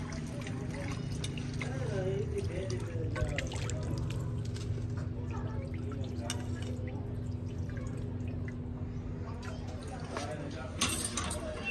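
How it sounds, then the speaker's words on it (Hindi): Raw chicken is rinsed with water, giving continuous splashing and dripping with occasional clatter, heard close under steady conversation. "हाँ जी चिकन धोया जा रहा है।"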